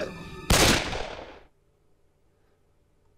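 A single loud gunshot from the video game Vermination cracks out abruptly, decays over about a second, and leaves near silence.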